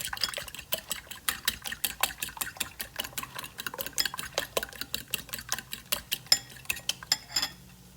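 Eggs and heavy cream whisked in a bowl, a steady run of quick, sharp clinking taps from a whisk or fork striking the bowl, close and clear with no talking, slowing to a stop at the end.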